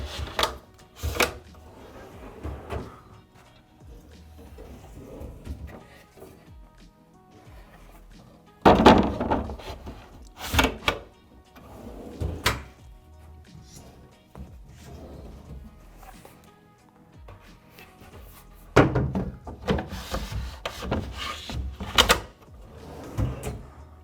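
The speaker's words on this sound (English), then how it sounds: "now we're going to go ahead and install the drawers." Drawers are fitted into an oven pantry cabinet during assembly, giving a series of loud wooden thunks, clunks and sliding knocks that come in irregular bursts with quieter handling noise between them.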